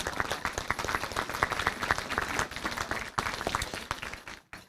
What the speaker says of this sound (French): Je demande de l'applaudir, même si elle est absente aujourd'hui.